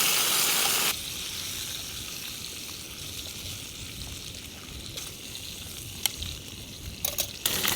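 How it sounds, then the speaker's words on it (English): Bacon fries in a pan at a snowy winter campsite, giving a loud, close, continuous crackling sizzle with a few sharp pops and scrapes near the end. "we're getting a real good sizzle going now"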